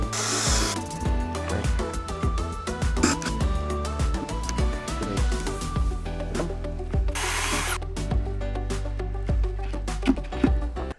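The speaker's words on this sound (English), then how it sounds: "Now I'll drill my hole." A power drill bores a hole into the wood of a DIY teardrop camping trailer, whining loudly and close in continuous bursts that rise and fall over several seconds.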